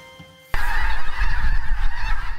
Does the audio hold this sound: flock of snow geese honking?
yes